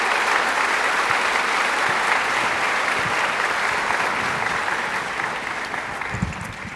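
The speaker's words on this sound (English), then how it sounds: "How about a round of applause for our panel?" Audience applause for a panel at a special event on the opioid epidemic, a steady, dense wash of clapping that fills the whole stretch and tapers slightly at the end.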